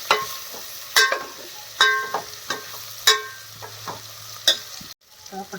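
Vegetables sauté in hot oil, with a steady faint sizzle broken by sharp clinks and scrapes of a spatula stirring in the pan, close by and unhurried.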